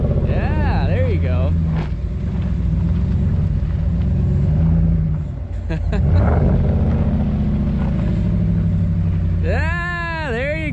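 A RAM 1500 pickup truck spins and slides in snow, its engine rumbling and revving in steady surges over about ten seconds, with people talking over the engine noise.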